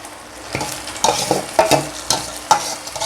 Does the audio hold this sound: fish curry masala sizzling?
yes